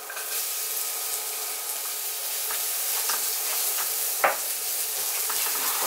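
Minced garlic and red onion sautéing in oil make a bright, steady hiss with scattered pops and a single louder crackle burst partway through, heard close and alone.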